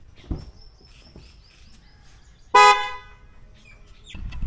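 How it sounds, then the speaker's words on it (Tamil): A single sharp car horn blast sounds loudly for a moment amid quiet outdoor background, with faint bird chirps and a soft thump beforehand. "ஸோ ஆரனோட சவுண்டு வந்து கேட்டிருப்பீங்க."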